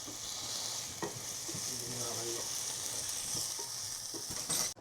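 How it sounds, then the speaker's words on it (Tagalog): Garlic, onion and tomato frying together in a pan, a steady soft sizzle with occasional scraping knocks of a spoon stirring, close and alone. "Tapos ito na yung ating bawang sibuyas na may kamatis"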